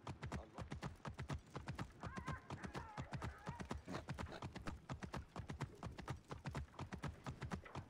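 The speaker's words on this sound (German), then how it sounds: "Können wir einmal ein Pferd? Wir haben einfach ein Pferd" Steady clip-clop of hooves at a trotting rhythm in Assassin's Creed Origins, with a horse whinnying partway through, all fairly loud over a constant background hum.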